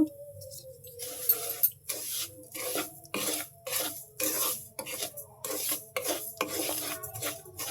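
Sugar lightly stirred in a pan with ghee, heard as close, rasping scrapes of a spoon against the pan in short repeated strokes, steady with brief gaps and no talking.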